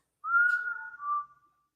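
One person whistles a single clear note that bends slightly and fades, heard alone in silence inside Pennhurst Asylum.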